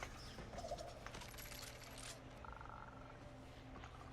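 Turkey-like birds gobble in the video game Destiny, a dense warbling clutter of calls over a steady game-sound bed, continuous and moderately loud throughout.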